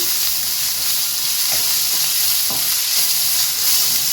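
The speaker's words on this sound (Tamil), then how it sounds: "இப்போ இந்த இஞ்சி பூண்டு பேஸ்ட்டும் ராஸ்மெல் போகிற அளவுக்கு நல்லா வதக்கிடலாம்" Ginger garlic paste sautéing with onions in a pan for a channa masala gravy, a steady loud sizzle and hiss throughout with occasional stirring scrapes, no talking.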